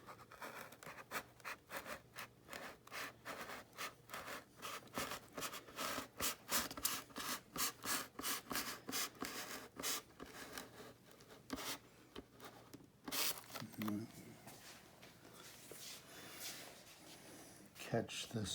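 A part for a Freewing Cougar model jet during a turbine conversion is cut by hand, a rapid rhythmic rasping saw scratch repeated in quick strokes, close and loud, then pausing with a few scrapes as someone talks.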